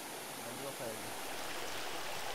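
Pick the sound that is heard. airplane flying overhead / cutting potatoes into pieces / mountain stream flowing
mountain stream flowing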